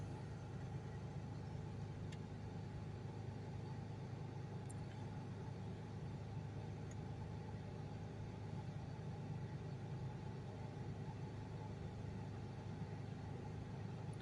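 A Jaguar F-Pace 3.0 diesel engine idling, a steady low hum with an even rumble, faint and unchanging throughout, with no talk.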